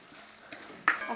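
Ginger and garlic stirred and sautéed in a pan for a Kerala dish, a soft steady sizzle with light scraping, building to a brighter burst of frying near the end.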